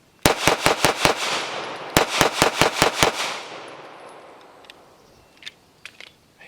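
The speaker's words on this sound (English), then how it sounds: "It is so flat shooting." Two rapid strings of CZ P-10 F pistol shots, about six each, ring out sharp and close with a short gap between them, followed by fading echo and a few faint clicks.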